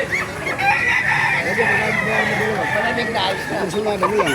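Roosters crow and hens cluck continuously at a chicken market in Baliuag, Bulacan, a busy, noisy space, several birds calling over one another with people talking in the background.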